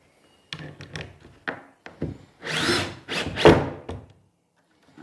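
Power drill driving screws into a wooden barn-style sliding door, heard as several short bursts followed by two longer whirring runs with thunks, close and fairly loud with no talking.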